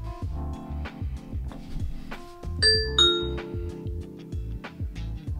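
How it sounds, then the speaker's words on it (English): A Ring doorbell press sets off a bright two-tone chime through an Echo Show 8 smart display, ringing out clearly with a short decaying tail. "when the doorbell was pressed, I could see the person who was at the door"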